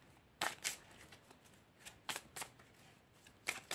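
Tarot cards being shuffled in bursts: several crisp riffling flutters with short quiet gaps between them, close and fairly loud, no talking.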